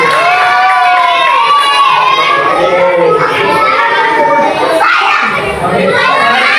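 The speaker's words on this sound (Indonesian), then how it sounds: "mari kita tepuk tangan untuk Nana Musi" A classroom of children cheers and shouts loudly in a dense, continuous burst, with excited voices overlapping throughout; clapping is not clearly distinct under the shouting.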